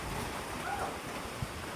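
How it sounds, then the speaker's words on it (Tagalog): Heavy rain pours outdoors as a steady, loud wash of noise with wind buffeting the microphone, continuous throughout with no talking. "Ang lakas ng ulan, guys."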